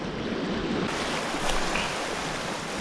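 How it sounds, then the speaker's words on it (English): Ocean waves wash and break continuously against a rocky shoreline at a Hawaiian fishing spot, a steady close roar of surf with wind across the microphone and no voices. "Hopefully, don't get splashed too bad by waves."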